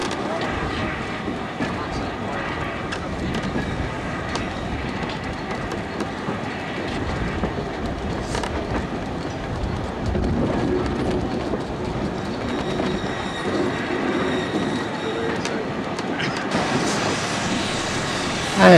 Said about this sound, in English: Our Black 5 returns to Bury Bolton Street.